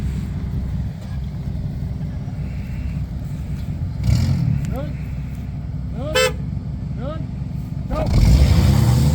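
Small RC cars race around a snowy winter fun-run track, a steady buzzing motor drone throughout with brief revving surges and short squeaky horn-like toots near the end.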